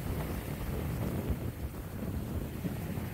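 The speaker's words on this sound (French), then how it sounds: "Ça y est, le vent est arrivé." Strong sea wind buffets a boat on open water near mountains, a steady, loud broadband rush of gusting wind against the microphone with waves faintly beneath, continuous throughout and no talking.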